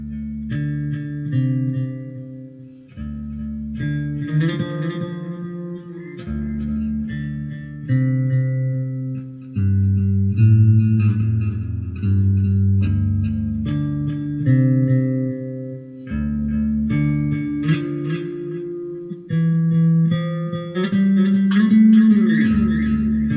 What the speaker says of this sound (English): it has delay and reverb together at the same time